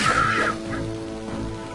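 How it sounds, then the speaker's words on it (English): Crows cawing in the video game Lord of the Rings: The Return of the King, a loud harsh caw at the start that fades into quieter, fainter calls against a low game background. "Kill the crows."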